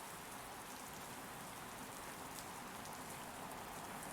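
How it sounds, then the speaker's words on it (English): Steady rain in the Euro Truck Simulator 2 driving game, a continuous dense hiss of drops drumming on the truck at constant loudness throughout, with no talking. "And it's raining again."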